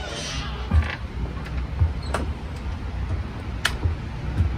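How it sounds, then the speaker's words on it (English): Steady low hum of generators running through a power outage, with a car passing nearby and scattered faint clicks and creaks over the constant drone. "all this ambient noise besides the car, it's all generators because there's no power in like the middle section"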